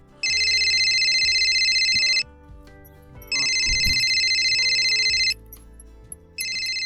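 A phone rings in three loud electronic bursts separated by short pauses, with faint background noise between rings.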